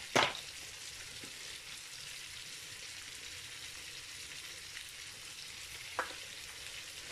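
Salmon sizzles steadily in a hot pan, seasoned with pepper and salt, with a constant frying hiss and a couple of faint clicks from utensils near the start and end.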